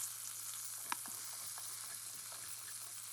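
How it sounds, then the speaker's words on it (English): Mustard seeds, cumin seeds, split channa dal, urad dal, curry leaves and green chilies fry in hot oil with a steady, faint sizzle and a few soft pops. "Once the oil is hot, I'm going to drop in our mustard seeds, our cumin seeds, our split channa dal, urad dal, some curry leaves,"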